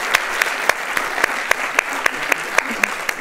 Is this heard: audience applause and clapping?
yes